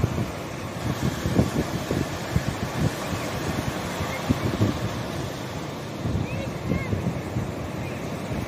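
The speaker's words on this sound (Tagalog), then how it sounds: "Takpa na sila ng alon, no?" Wind and waves at sea near Fortune Island, heard from a fishing boat as a constant rushing surf with occasional louder splashes and thumps against the hull.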